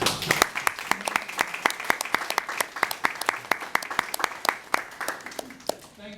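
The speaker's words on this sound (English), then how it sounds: "let's give a round of applause here, but you did the work for me" A crowd at a sales talk claps steadily with sharp, distinct hand claps in a fairly even rhythm for several seconds, moderately loud and without speech over it.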